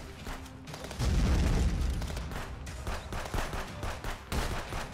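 Pistol fire in the police game Contraband Police, with rapid, dense shots close by in a steady loud barrage over booming impacts.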